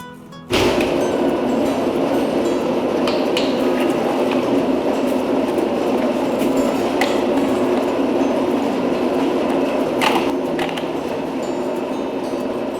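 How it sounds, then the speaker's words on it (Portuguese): Seasoned meat for calabrese sausage being fed through a meat grinder, a loud, steady mechanical whir and grinding rumble that starts abruptly and runs continuously, with a few faint knocks, no speech. "Vou colocar para moer agora"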